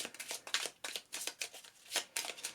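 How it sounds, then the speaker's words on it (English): A deck of Marvel Champions cards is riffled and shuffled in a quick run of soft, papery bursts, close and quiet with no talking. "So we will give these a shuffle up."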